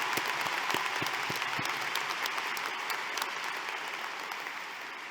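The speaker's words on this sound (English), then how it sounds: "Would you please give them a round of applause?" An audience at a 2023 Summerville High School graduation ceremony claps in a dense, steady round of applause that fades slightly toward the end, with scattered sharper claps near the start.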